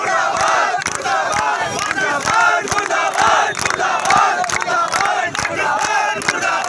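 A large protest crowd in Ujjain chants slogans loudly in rhythmic bursts, many voices shouting together in repeated, closely spaced phrases.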